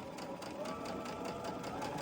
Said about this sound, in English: then I'll sew it from there to there